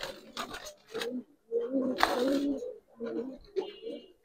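Giribaz and colored pigeons give soft, throaty coos in several short bursts close by at a market in Old Dhaka, with faint talk in the background.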